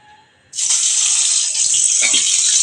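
Tangra fish, slit down the middle, dropped into hot oil: after a brief quiet moment a sudden loud sizzle bursts up and holds as a steady, bright crackling hiss, close by.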